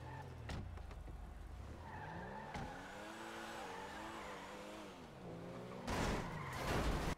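Car driving and skidding in the GTA video game: a steady engine drone with rising and falling pitch, ending in a loud burst of tire skid noise near the end.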